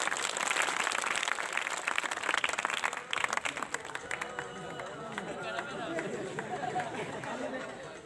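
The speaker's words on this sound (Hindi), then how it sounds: "आपकी होंगी तालियां" An audience of school children applauds at a magic show, with dense clapping for the first few seconds that thins into crowd chatter and talking.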